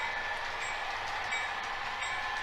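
A train rolling slowly through a speed restriction, a steady distant rumble of wheels and cars with faint high metallic squeals above.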